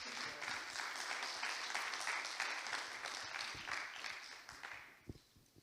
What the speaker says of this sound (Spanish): Recibamos con un fuerte aplauso a Andrés Sena.